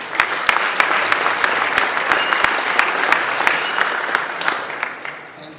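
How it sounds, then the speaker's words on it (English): Audience applause at a boxing press conference, greeting the current European Super Lightweight champion, a steady crowd clapping with sharp individual claps standing out, sustained for several seconds before tapering at the end. "a big round of applause for the current European Super Lightweight champion, Joe Hughes."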